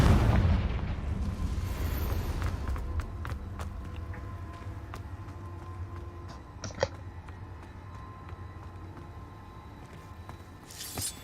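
A Confringo spell explosion in the video game Hogwarts Legacy, a heavy booming burst at the start that decays into a low rumbling tail, with a few sharp pops and clicks scattered over the quieter stretch that follows.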